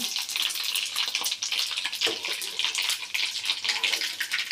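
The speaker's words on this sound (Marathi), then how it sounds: "त्याच्यानंतर आपण जिरं मोहरी घालणार आहे त्याच्यामध्ये" Cumin and mustard seeds hitting hot oil in a pan while making vada pav seasoning, a continuous close, bright sizzle with crackling spatter and no talking.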